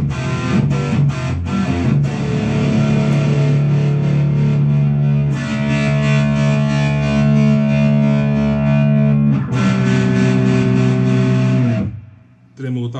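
A Mesa Boogie Tremoverb guitar amp plays distorted chords with tremolo and reverb, loud sustained ringing tones in several held sections separated by brief fresh attacks, ending in a short drop-out.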